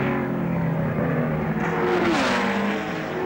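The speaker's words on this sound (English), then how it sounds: "Here's Jimmy Clark coming into the braking area." 1960s Tasman Series racing car at Warwick Farm coming into the braking area, a loud continuous engine note with a pitch that dips as it slows, heard alone without voices.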